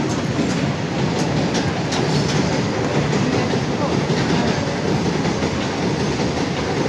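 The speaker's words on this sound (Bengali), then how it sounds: "ট্রেন মনে হচ্ছে একটা শেষ হবে না" A loud train rumbles past close by at a level crossing, wheels clattering steadily over the rails without pause.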